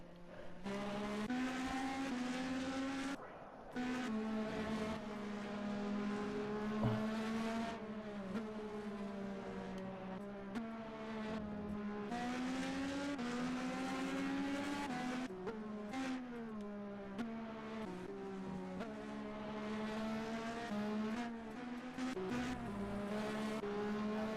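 Formula B race cars cross the finish line one after another, with high-revving engines rising and falling as each passes and a continuous loud mechanical whine, sustained and close throughout.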